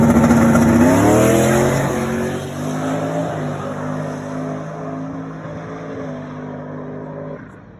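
A no-prep drag race car launching hard down the strip, its engine screaming and rising in pitch before settling into a steady, loud, sustained roar as it pulls away over several seconds.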